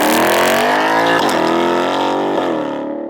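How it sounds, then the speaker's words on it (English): An all-American V8 car accelerating hard in track mode with a 10-speed gearbox: a loud, close, rising engine roar with rich harmonics and brief dips at gear changes. "That's a proper all-American V8, isn't it?"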